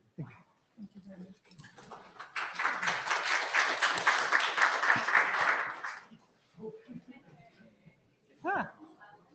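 Audience applause closes a technical meeting about IP for other planets: a dense burst of clapping swells for several seconds and then stops, with voices talking briefly before and after.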